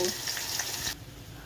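Nigella seeds, dried red chilli and dried onion hit hot oil in a pan, a loud crackling sizzle that cuts off abruptly after about a second, leaving a faint low hiss.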